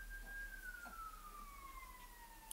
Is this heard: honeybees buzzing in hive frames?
no